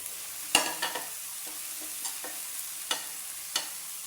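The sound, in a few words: frying capsicum, carrot and beans in pan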